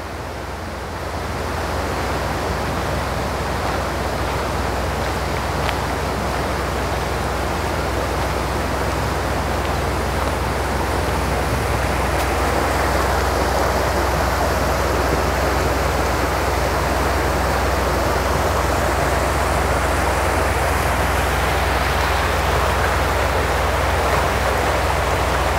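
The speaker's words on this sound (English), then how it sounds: "Hopefully you can hear the water." A river flows below trestle #18 on the Virginia Creeper Trail near Damascus, Virginia, with a breeze blowing. The rushing water is a steady, even roar that fills the whole stretch without a break, and no one speaks.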